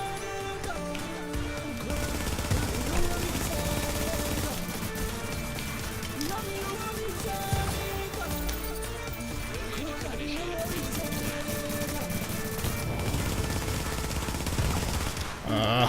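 Turret gunfire in The Division rattles in sustained bursts amid a dense, chaotic mix of battle noise and game sound, with someone speaking over parts of it.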